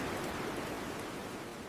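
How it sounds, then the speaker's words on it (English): Steady, soft hiss of rain falling and pattering on an opened umbrella, a dense even wash of tiny drops with no pauses. "Listen to the rain."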